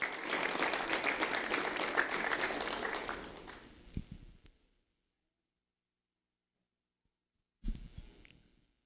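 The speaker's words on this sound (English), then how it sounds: "A round of applause for Jermaine Washington" An audience at a school recognition ceremony claps for a third-grade student, a dense burst of applause that fades out after about four seconds, followed by silence and a brief thud.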